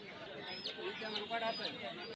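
Native chickens cluck softly at Putia market in Narsingdi, a few short, quiet calls blending into the busy market hum while a person talks nearby.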